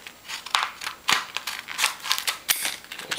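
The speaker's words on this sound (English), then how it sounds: "Get the scissors." Scissors snipping open packaging while setting up a PSP memory adapter, a run of sharp crisp cuts and clicks at an uneven rhythm, close and fairly loud with no talking.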